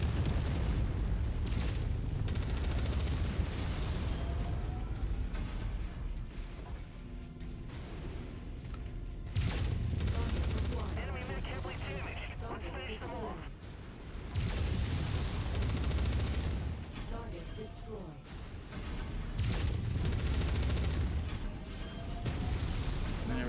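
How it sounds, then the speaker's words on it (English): Enemy artillery in the MechWarrior 5 mech combat game lands as a run of heavy booms and explosions. Deep rumbling blasts keep coming at close range, mixed with mechanical clanks, and the sound is loud and dense the whole way through. "Should be all the enemy artillery, right?"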